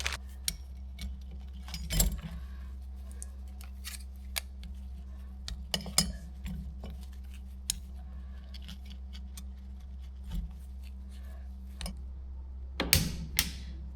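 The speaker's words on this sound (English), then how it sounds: "I should take my plates here and my clutch discs and put them in the right order" Metal clutch plates and friction discs for a Vespa PX Polini clutch clink and click as they are handled and stacked, sparse light metallic taps over a low steady hum.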